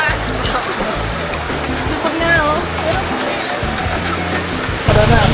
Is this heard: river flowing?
yes